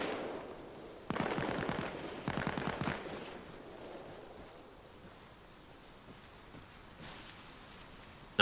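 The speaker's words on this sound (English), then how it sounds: "MG Nest's looking active" Distant machine gun nest in Arma Reforger opening up in two rapid sustained bursts, faint and hissy against a steady wash of outdoor ambience, with a brief louder crack near the end.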